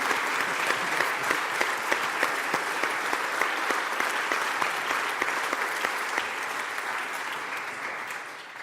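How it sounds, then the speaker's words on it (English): A lecture-hall audience claps for four prize winners, a steady round of applause with distinct individual claps that gradually thins and fades toward the end. "Let's give them a round of applause."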